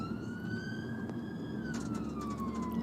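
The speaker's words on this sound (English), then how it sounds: "So they have their siren on and the lights on" A wailing UK ambulance siren sweeps up and down over steady road and engine rumble, fairly close and continuous.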